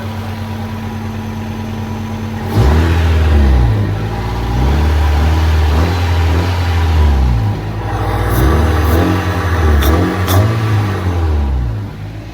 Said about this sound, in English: Let's get a little intake noise.